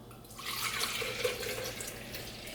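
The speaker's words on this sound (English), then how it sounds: "we're gonna pour it into the little bullet thingy I told you about" Walnut milk is poured into a small blender cup, giving a steady, close liquid splash and trickle for a couple of seconds with no talk.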